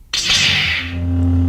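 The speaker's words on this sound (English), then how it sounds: "lightsaber being turned on." A lightsaber ignites with a bright rushing whoosh that settles into a steady low electric hum, loud and close, in the game Star Wars: Bounty Hunter.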